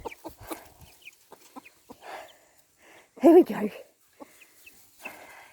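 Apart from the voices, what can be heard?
chickens clucking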